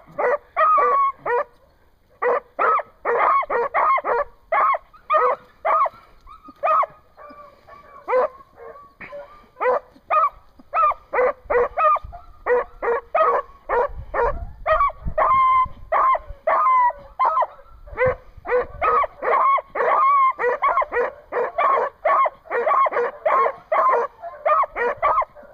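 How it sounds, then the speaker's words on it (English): Greyhounds bark rapidly and excitedly at a dog race, with dense repeated close yelps and barks in bursts over about twenty-five seconds, some whimpering between. "Once again, the dog out front is off of Bill"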